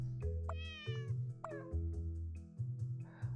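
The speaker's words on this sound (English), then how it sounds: "Oh, there are cats behind me." Cats meow behind a person, several clear meows one after another with a steady low hum underneath.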